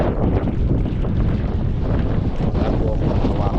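Strong wind buffeting the microphone aboard a small fishing boat during net fishing at sea, a loud continuous low roar with gusty rumble throughout, a faint voice barely audible beneath.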